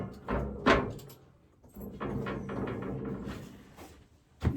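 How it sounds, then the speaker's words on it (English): Iron oven door of an old Canadian wood stove being handled, with a sharp metallic clank near the start, then scraping and rattling, and a final knock at the end. "That's the other oven door."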